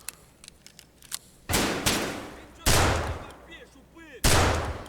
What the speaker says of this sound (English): Have a little bit of a gunfight here